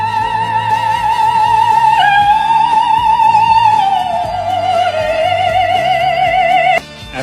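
An operatic soprano sings in a recording, a sustained, vibrant high voice with strong vibrato holding long notes and sliding between pitches over quiet accompaniment, ending with a brief drop-off.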